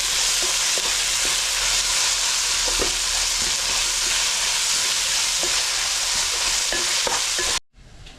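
Steady, dense sizzling of ginger-garlic paste frying in a hot pan for a cauliflower curry, with occasional scrapes and clinks of a spoon stirring, ending in a brief cutoff.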